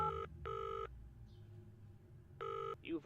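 Telephone ringing after a number is dialed in the video game Penelope Pendrick & The Art of Deceit: two clear electronic ring bursts, then a third, separated by quiet gaps, close and alone.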